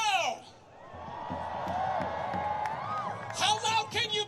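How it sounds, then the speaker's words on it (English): A crowd of protesters outside the Democratic National Convention in Chicago, cheering and whooping at a distance, swelling into louder shouts toward the end, with a voice talking over it at the start. "What a crowd!"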